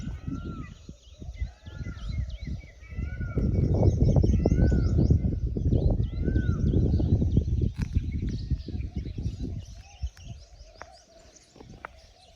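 Birds call outdoors near temples: doves coo, small birds such as sparrows chirp, and peacocks may call, with overlapping calls over a low background rumble that grows louder in the middle and then fades.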